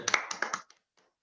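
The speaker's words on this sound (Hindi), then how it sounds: "सबके लिए तालियां हो जाए" A short burst of hand clapping from an audience at a Hindi business opportunity presentation honouring achievers, a few sharp claps over about half a second before trailing off into near silence with faint scattered taps.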